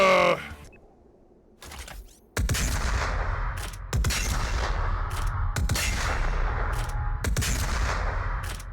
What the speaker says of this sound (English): the GimGam understands this well with their combi-shooter being one part glorious sounding dakka and the other part being that huge blast of rockets